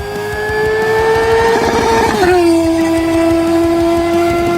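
A Honda CB400 motorcycle engine runs steadily and close, its rev climbing then settling into a smooth, sustained hum with a clear tonal whine.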